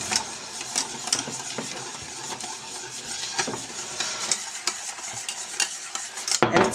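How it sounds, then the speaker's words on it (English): Room-temperature butter stirred into hot lemon cake mixture off the heat, close wet stirring with repeated clinks and scrapes of a utensil against the pot, a louder clatter near the end. "Drop the butter in and mix it up."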